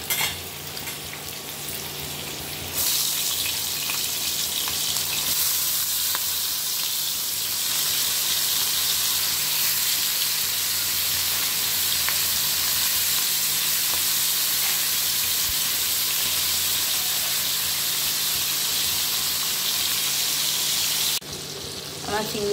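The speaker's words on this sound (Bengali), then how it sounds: "আমি এর মধ্যে চিংড়ি মাছ কটাকে ভেজে নিচ্ছি।" A few prawns frying in hot oil in a pan for a Bengali jackfruit-and-prawn dish, a loud, continuous sizzle and crackle that holds steady throughout with brief shifts near the start and end.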